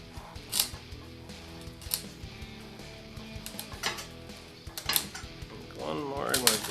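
A pipe cutter is spun around a mountain bike seat post, giving close, irregular metallic clicks and scraping ticks in quick succession, with a brief squeaky rise near the end.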